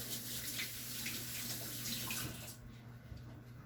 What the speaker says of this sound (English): I'm going to wash my hands here